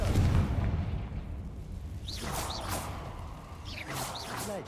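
A Confringo fire spell explodes in Hogwarts Legacy, a loud burst with whooshing swishes and crackling pops trailing off, several bright magical flares following the blast.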